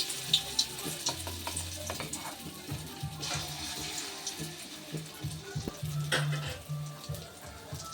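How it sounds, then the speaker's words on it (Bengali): A ladleful of egg and lentil batter is dropped into hot oil and fries with a soft, continuous sizzle, punctuated by nearby clicks and clatter of utensils. "1 হাতা করে নিয়ে আমি তেলের মধ্যে ছেড়ে দেবো।"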